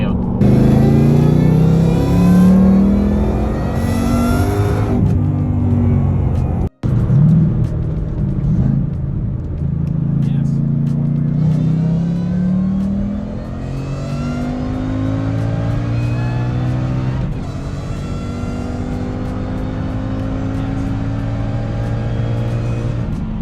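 Whipple-supercharged Ford Mustang GT fitted with a supercharger whine mod, revving close by in loud rising and falling pulls, a high whine riding over the engine rumble, with a brief cut partway through.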